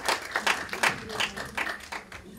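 Audience clapping at the founding general meeting of an association, a short burst of distinct rhythmic claps from a modest crowd, fairly close and loud, with no talk over it.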